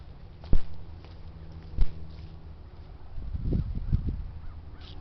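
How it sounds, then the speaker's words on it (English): Crows caw outdoors as a bird glides overhead: a few harsh calls clustered near the end, following two sharp knocks, with faint ambient noise between. "Sound like there's more crows."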